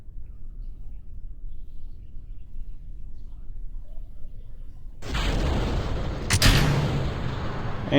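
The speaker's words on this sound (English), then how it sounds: "And we have liftoff." A Saturn V rocket lifts off in Kerbal Space Program: after five seconds of near silence a loud broadband engine roar bursts in and holds, with a sharp crackling peak a moment later.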